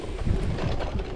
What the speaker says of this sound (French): comme prévu, le vent s'intensifie